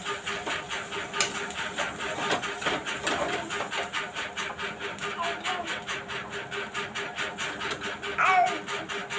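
A spatula scrapes steadily through a dry lentil puri filling of ground dal with green chilli and ginger in a pan, making a fast, even run of rasping strokes that carries on for the whole stretch at moderate loudness.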